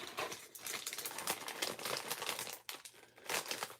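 Plastic bag crinkled and crumpled by hand while making bracelets, a close, continuous crackling rustle with brief pauses, loud and dense throughout with no talking.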